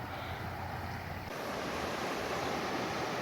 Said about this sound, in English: I love the different sounds of the river depending on where I am on the trail and what angle I'm at.